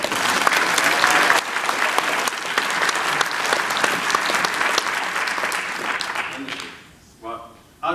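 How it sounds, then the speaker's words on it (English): Audience applause at a crime fiction award ceremony, loud sustained clapping from a large room that fades out near the end, followed by a brief voice. "so another round of applause for that"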